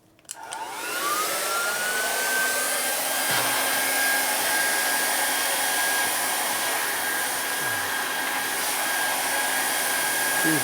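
Heat gun blasting hot air onto a motorcycle engine part during a 2001 Indian Scout 88ci big-bore S&S rebuild: a click on, then a loud, steady whooshing roar with a rising whine that settles, running alone throughout.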